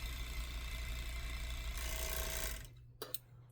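A sewing machine stitches the side seams of fabric together, its steady mechanical whir running continuously for about two and a half seconds before it stops, followed by a couple of faint clicks.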